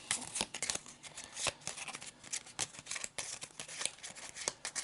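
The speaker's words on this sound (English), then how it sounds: "we'll do a bit of blind shuffling" A deck of game cards being blind shuffled by hand, a rapid series of crisp riffling and snapping clicks in irregular bursts, close and fairly quiet, with no talking.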